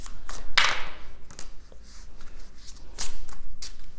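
Tarot connection cards being shuffled by hand, a few quick riffling bursts with soft papery flicks in between, close and fairly quiet, with no talking.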